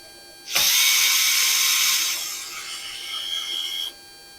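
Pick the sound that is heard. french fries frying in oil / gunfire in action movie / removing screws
removing screws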